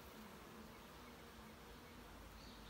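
Wasps or bees buzzing around a flowering barberry bush outdoors, with several insects droning continuously at close range, a faint but steady hum with no talk.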